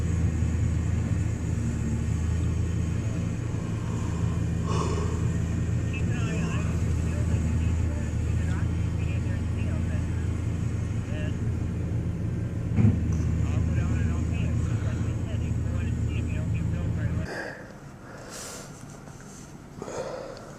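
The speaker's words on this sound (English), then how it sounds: "Now that is a snow blower." A snow blower engine runs close by in a loud, steady rumble that holds for about seventeen seconds, then cuts off abruptly, leaving only quiet background and faint noises.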